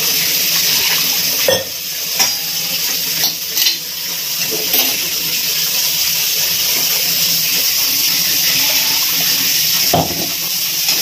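Water is poured into a pan of mutton curry masala, a continuous splashing gush with a few brief louder bumps, fairly close and without talk.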